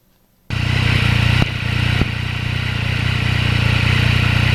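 A Yamaha MT-09 motorcycle engine and exhaust start abruptly and settle into a loud, steady, throbbing drone, close up, with a slight change in tone partway through and no voices.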